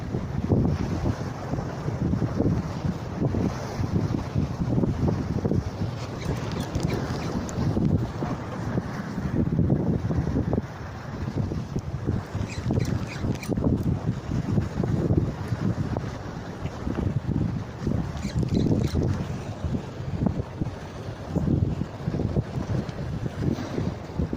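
Strong, steady wind buffeting the microphone on a fishing boat at sea, a continuous roaring rumble with gusty swells and faint water noise underneath, no voices.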